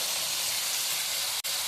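Tomato and rock salt sauté in a pan, giving a steady, even sizzle and hiss with one brief dropout near the end and no talking.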